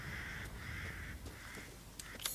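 Several crows caw in Resident Evil Village, with harsh repeated calls spaced across the clip over a steady, dense game ambience; the birds sound moderately distant, with no talking.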